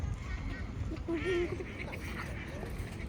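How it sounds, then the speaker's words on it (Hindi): Ducks quacking at a park pond, a short run of a few quacks in the middle under a steady outdoor background with people talking nearby. "यहाँ पे डक्स की आवाज़ आ रही है।"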